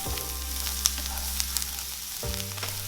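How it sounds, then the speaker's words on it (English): Ginger and garlic sizzle steadily in hot oil in a pan, a close, continuous frying hiss with a few sharp pops and a brief stir near the end. "Next, I'm gonna add the ginger and garlic and give it a swirl in the oil."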